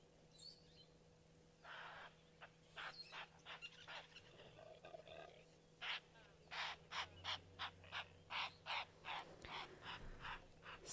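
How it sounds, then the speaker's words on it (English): Impalas giving alarm calls in the African bush, a run of sharp blowing snorts repeated in quick succession, fairly faint and distant, with a steady hum behind them. "those are the impalas that we can hear, and when they do make their alarm calls, it is that sort of blow"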